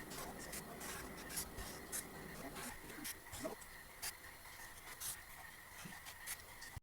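A Sharpie marker sketches balloons on a plastic bag surface, producing soft, continuous scratchy rubbing strokes with short rhythmic squeaks and taps at close range, no talking.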